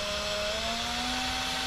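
A power drill whirs steadily as it twists tachometer wires into a harness for a 1985 Dodge D100 truck, one continuous close motor tone with no pauses.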